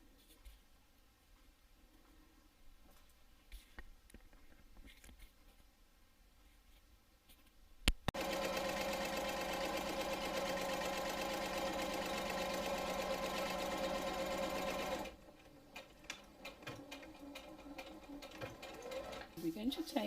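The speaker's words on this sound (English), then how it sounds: "So we're going to sew both of these down the 3 sides." A sewing machine stitching the main fabric and lining of a small tote lunch bag: quiet handling noise at first, then about seven seconds of a steady, loud, continuous whirring hum that stops abruptly, followed by soft fabric rustling.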